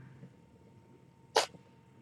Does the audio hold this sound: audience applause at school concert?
no